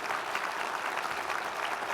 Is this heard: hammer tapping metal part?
no